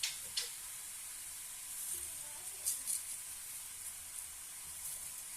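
Olives frying in a pan over a gas flame give a faint, steady hiss with a few soft crackles and stir clicks, quiet and close, without talk.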